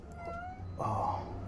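A pet cat meows twice, a thin rising cry and then a louder, longer one, close by and quiet.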